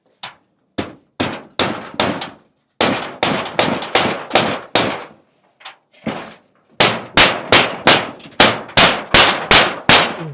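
Nails being hammered during work on a house, a long series of loud, sharp metallic strikes in quick irregular bursts, with short pauses between runs and a steady rapid rhythm toward the end.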